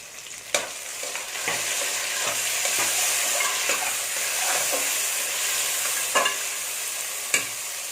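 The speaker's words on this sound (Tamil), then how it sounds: "தக்காளி வதங்கிக்கிட்டு இருக்கு" Onions and tomatoes frying in a pan, a steady close sizzle with repeated sharp scrapes and clinks of a spoon stirring, used while cooking prawn pulao.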